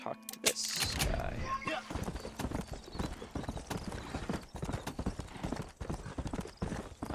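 Horse hooves clip-clopping as the horse is ridden without a saddle in the video game Red Dead Redemption, a brisk rhythmic gallop that runs through the clip after a short neigh-like burst and game sounds at the start.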